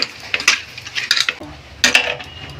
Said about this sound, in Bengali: মাছটা এবার একটু মাখবো।